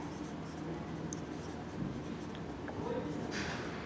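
A pen scratches across paper while math equations are worked out, a soft steady scribble with a few short strokes and taps over a low background hum.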